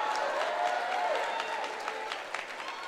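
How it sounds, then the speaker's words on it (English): An outdoor commencement audience claps on a hot day, a moderate, even wash of many hands that tapers slightly toward the end, with no voices over it. "Yeah, you can clap for that."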